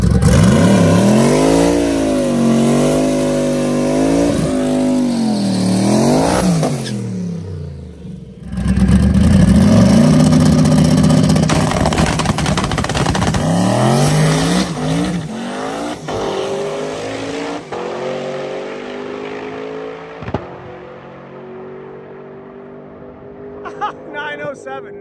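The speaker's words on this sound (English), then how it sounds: "Vance Cooper, has probably one of the fastest stick shift Cadillacs I've ever seen." A stick-shift Cadillac with an LS swap and single turbo makes a drag racing pass. The engine revs hard and climbs through gear changes, loud and close at first, then fades as the car speeds off, with talk over it.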